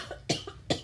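Two short, faint coughs from a person, close and isolated in a quiet room.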